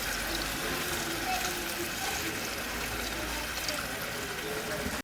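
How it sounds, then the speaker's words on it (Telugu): Water pours continuously into a cooking pot in a village kitchen, a steady rushing gush held for several seconds with a voice talking faintly underneath. "నీళ్ళు పోసుకుంటున్నా."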